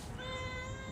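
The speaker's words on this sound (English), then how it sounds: "That was a loud meow." A single loud, close cat meow, drawn out and clear, with no talking.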